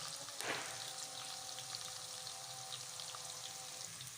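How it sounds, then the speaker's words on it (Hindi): Onions frying in hot ghee give a steady, close crackling sizzle that holds throughout, with a brief louder burst near the start. "घी गर्म हो गया है, प्याज ऐड कर देते हैं।"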